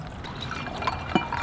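A splash of whiskey poured into a glass for a Manhattan-style cocktail, a soft short liquid pour that ends in a small clink, close and quiet with no talk.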